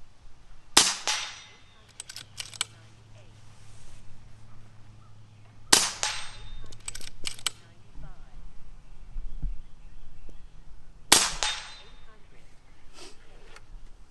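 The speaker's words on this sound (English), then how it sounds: "We're just going to shoot this here and a couple shots just to show you where she's tuned at" Three sharp, loud cracks from a JTS Airacuda air rifle, spaced several seconds apart and heard up close, with low background noise between shots.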